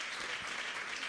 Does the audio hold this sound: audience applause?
yes